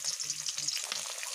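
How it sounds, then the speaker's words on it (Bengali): Magur and shingi fish tails frying in hot oil while pressed flat with a spatula, giving a close, continuous crackling sizzle with light scraping, heard alone. "মাছের লেজগুলো যখন আমরা ভাজবো তখন এইভাবে দিয়ে সঙ্গে সঙ্গে একটু উল্টে দিয়ে খুন্তি দিয়ে একটু চেপে ধরে থাকলে"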